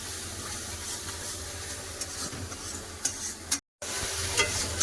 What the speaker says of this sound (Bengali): এবার মশলাটাকে ভালো করে তেল ছাড়া পর্যন্ত কষে নেবো